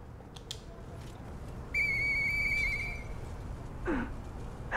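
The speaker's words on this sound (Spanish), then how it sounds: "¿Puedo usar el silbato?" A whistle blown by the player character in the video game Lies of P, one clear sustained high tone lasting about a second, set over a low ambient game background, with a fainter chirping sound afterward.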